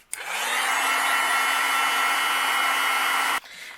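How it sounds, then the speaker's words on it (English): A heat gun melts embossing powder on a card panel for a Nordic Christmas card, giving a steady, loud, close whooshing blow that starts abruptly, holds for about three seconds and cuts off sharply. "I'm going to use my heat gun and I'm going to melt this"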